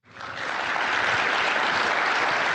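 Applause dropped in as a sound effect, rising quickly from nothing and then holding as a steady, dense wash of clapping with no voices.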